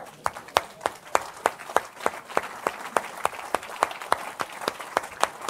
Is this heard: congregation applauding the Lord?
yes